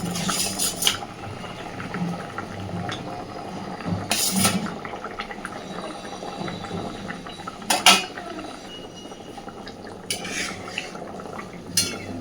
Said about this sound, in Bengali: দেখুন ঝোল কিন্তু খুব সুন্দরভাবে ফুটতে শুরু করেছে